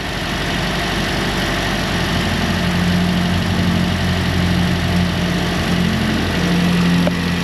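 A car engine with an intermittent misfire idles steadily and loudly up close, giving a continuous low rumble with an even hum and no break.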